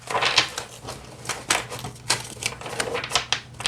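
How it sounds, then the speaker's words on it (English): A tarot card deck is shuffled by hand in a quick run of crisp, papery riffles and soft flutters, close and fairly quiet, with short pauses between bursts. "So there's that shuffle."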